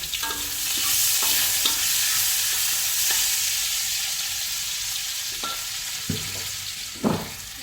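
Beef sizzles steadily in a hot pan with garlic and ginger, with a few sharp clatters of a utensil scraping and stirring near the end.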